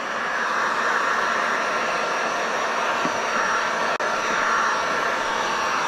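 Heat gun blowing steadily to shrink automotive window tint film, a constant airy roar with no breaks or talk across the whole stretch, apart from one brief dip near the end.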